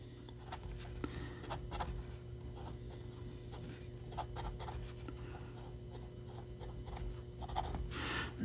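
A Delike New Moon 2 fountain pen with a bent nib scratches across paper in short, soft strokes, a faint, close and intermittent rhythm of pen contact against a quiet background.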